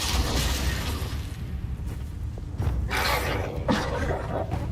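Confringo spell blasts in the video game Hogwarts Legacy: a low rumbling background broken by several bursting booms with crackly, hissing tails, fairly quiet overall and with no talk.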